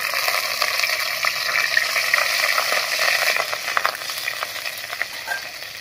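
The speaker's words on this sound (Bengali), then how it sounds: "শুধু লঙ্কা দিয়ে ভাজবো।" Slit green chillies hitting hot mustard oil in a pan, a bright steady sizzle and crackle that holds close and loud, easing slightly toward the end.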